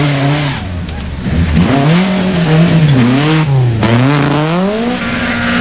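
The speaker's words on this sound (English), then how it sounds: "Terry Cabey drives the Nissan 240 RS, recently rebuilt following his attack on the scenery in Ireland" Nissan 240 RS Group B rally car driving on a Scottish rally stage in 1985, its engine loud and close with a rising and falling rev note as it accelerates and shifts, with tire noise beneath.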